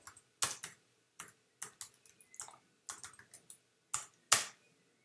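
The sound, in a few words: typing a PHP artisan command on a computer keyboard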